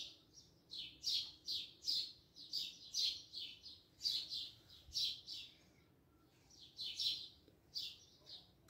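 A caged azulão songbird sings a bright series of quick repeated whistled notes in bursts, with a short pause midway, fairly faint against a quiet outdoor background.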